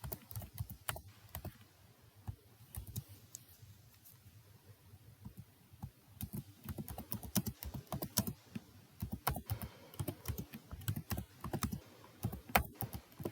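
Code for a C-style program printing float values with format specifiers is typed on a computer keyboard: steady, close bursts of crisp keystrokes with brief pauses, and no voices.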